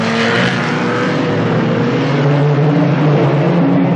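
Race cars, a Ford Focus among them, roar around an oval track during a Rolling Thunder Show final, a dense, steady, loud engine drone with no pauses.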